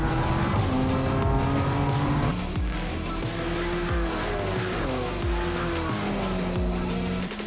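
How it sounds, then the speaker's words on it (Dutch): Race cars, a BMW M2 and a Cupra TCR, roar through corners at Circuit Zandvoort, loud engines shifting pitch with tire squeal as several cars pass close by. "Na deze kombocht vliegen de auto's over de duinruggen richting de Slotenmakerbocht en het schijfvlak."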